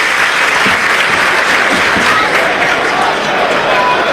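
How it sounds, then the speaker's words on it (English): A football crowd applauds the Brazilian player Wellington as he walks back from the far side of the pitch at a Coventry versus Southampton match, a steady, dense wash of clapping filling the stadium throughout. "And that's the applause for the Brazilian."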